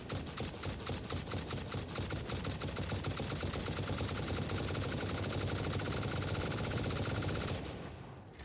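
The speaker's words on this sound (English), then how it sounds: "the next one is the turbo rifle ammo, which is kind of like an SMG, but it's a wind up" Rapid automatic fire from the wind-up turbo rifle in the factory-building game Satisfactory, a dense unbroken stream of close, loud shots that speeds up as the trigger is held, then cuts off abruptly near the end.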